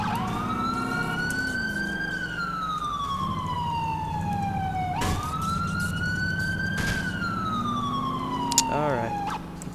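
A wailing police siren in GTA IV sweeps up and down in long cycles, loud and continuous, with a few sharp knocks.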